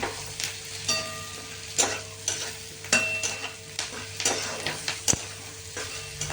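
Lightly browned onions fry with freshly added tomatoes for a paneer masala curry, a soft sizzle under repeated rhythmic stirs and scrapes of a spoon against the pan, near and fairly quiet, with no voices.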